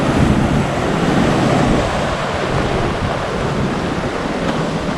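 Wild, rough ocean surf pounds a beach in Canada, a loud continuous roar of crashing waves and wind buffeting the microphone, with no voices throughout.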